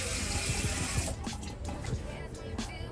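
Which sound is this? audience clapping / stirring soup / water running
water running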